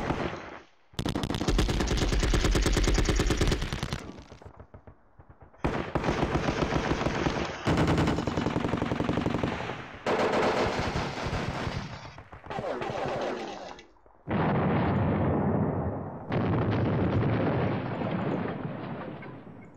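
Rapid bursts of machine-gun and rifle fire from the Sealion '40 wargame, loud and near, with dense automatic volleys separated by short gaps and a low artillery-like rumble in the later bursts.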